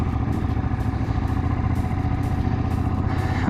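A Ducati motorcycle engine running while riding, with a close, steady, buzzing drone and a rapid firing pulse throughout.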